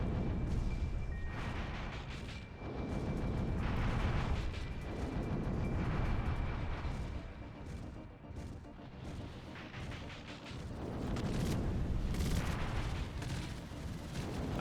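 Gunfire and explosions in the video game Drakengard 2, a dense, continuous barrage of loud booms and shots that rises and falls with no pauses.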